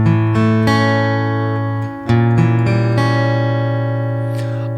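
Acoustic guitar playing song intro chords: two sustained strummed chords ringing out, a brief break near the middle, then the second chord held and slowly decaying, played alone without talk.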